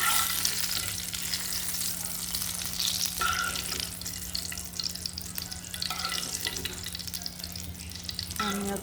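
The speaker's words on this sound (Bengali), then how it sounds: "তাই রান্না করা বেগুন চাইলে আপনারা এইভাবে সুন্দর করে হালকা ভেজে নিতে পারেন" Eggplant pieces fry in hot oil for a tilapia fish curry, giving a loud, steady sizzle that runs without a break, with occasional scrapes from stirring and no talking.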